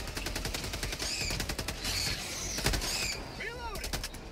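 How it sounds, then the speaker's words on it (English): Rapid gunfire in Helldivers 2, a dense burst of repeated shots cracking in steady bursts close by, with voices talking during the shooting. "Dang, you shoot me!"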